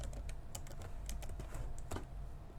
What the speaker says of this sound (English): So you just type work on its project.